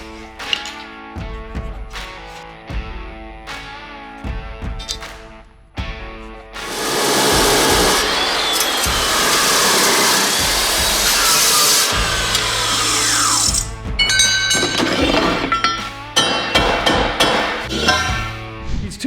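Metal tubing being cut into pieces in a workshop, a loud sustained grinding or sawing roar that starts about a third of the way in, runs for several seconds, drops back, then returns in shorter bursts alongside clanks and handling noise.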